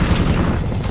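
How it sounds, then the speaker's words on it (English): A loud, heavy explosive boom in Call of Duty Black Ops 4, a thick, rumbling burst that fills the brief moment up close. "Going hot. explosion."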